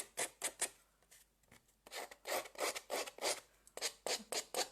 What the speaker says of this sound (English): I'm just using scissors to make